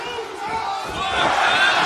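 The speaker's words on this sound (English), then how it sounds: "And a divided crowd here in Portland, Taz." Wrestling arena crowd in Portland cheering and shouting during a match, a loud, dense roar of many voices that swells louder toward the end.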